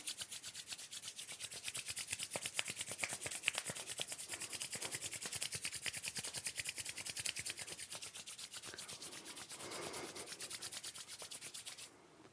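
Hands rub together vigorously in a fast, even back-and-forth rhythm. The close, dry swishing holds steady for about twelve seconds, then stops abruptly. No one speaks.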